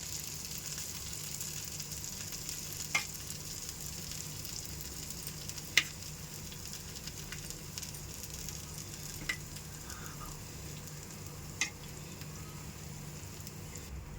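Beaten egg fries in hot oil for Madurai kari dosa, a faint, steady crackling sizzle with a few sharp taps at intervals, quiet and close with no talking.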